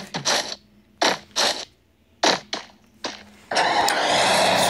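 A car engine in a video game is cranked in several short bursts that sputter and stop, then catches and settles into a continuous running rumble, close and fairly loud.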